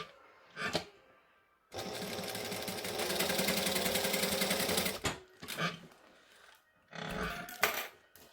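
A sewing machine runs in one long steady burst of rapid stitching, joining a dress lining piece at the side seam, with short bursts of machine noise before and after and no talking.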